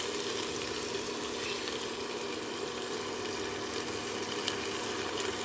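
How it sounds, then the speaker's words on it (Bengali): Fried aar fish pieces are gently stirred in a sizzling spice masala over the flame. The frying hiss stays even and moderately loud, with faint scrapes and crackles, and no voices. "খুব আস্তে আস্তে নাড়িয়ে নিতে হবে যেহেতু মাছগুলো ভাজা হয়ে গেছে"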